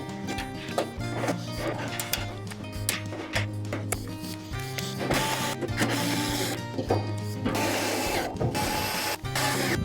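Brackets bolted onto an upside-down Turbro Fireside smokeless fire pit with a ratchet, rapid clicking pawl bursts and metallic clanks repeating close by over a hum of background noise.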